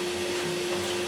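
A shop vacuum drones steadily in a woodworking shop, a constant close whoosh with a steady hum and no breaks.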